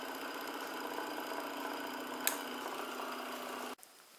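A small Ringbom-type Stirling hot air engine runs steadily at around 900 to 1000 RPM with an even, whirring hum and a faint single tick midway, then cuts off abruptly near the end.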